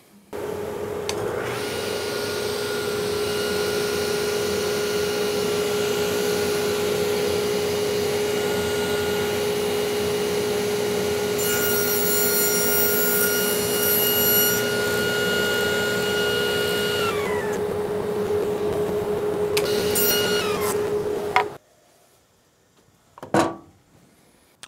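Power saw cutting wood stock during a Grizzly G0609 jointer Shelix head upgrade, a loud steady whine for about twenty seconds with a rising pitch partway through, then cutting off abruptly into a few short clunks.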